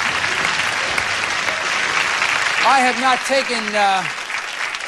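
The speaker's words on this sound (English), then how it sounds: "Give them a nice round of applause" Loud, steady applause from a studio audience on a 1986 Card Sharks game show episode, greeting ten beauty queens. Someone speaks briefly over the clapping midway through.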